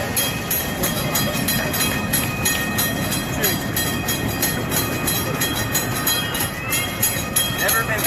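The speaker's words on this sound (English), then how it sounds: "Here comes the train." A train on a Texas railroad approaches and rolls past, a loud, continuous rumble with rhythmic clicking wheels and metallic ringing that stays strong throughout, with people talking nearby.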